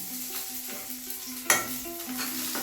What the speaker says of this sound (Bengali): এবার আমি দুটো কাঁচা লঙ্কা চিড়ে দিলাম আর কালো জিরে ফোড়ন দিয়ে দিলাম।